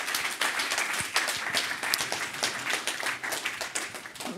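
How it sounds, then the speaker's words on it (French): Audience applause after a talk at a conference on generative AI and the media, a steady patter of many hands clapping at moderate loudness with no speech over it. "Merci. Applaudissements."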